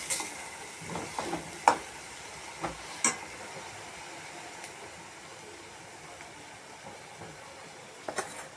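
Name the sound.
sautéing coconut, coriander and ginger-garlic paste in a pan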